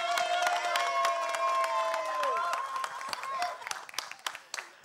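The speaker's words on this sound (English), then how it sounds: "Let's have a huge round of applause for them as well" A crowd at a film trailer launch event claps in sustained applause while a few voices whoop and cheer, tapering off toward the end.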